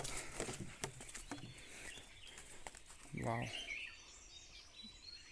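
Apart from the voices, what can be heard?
birds chirping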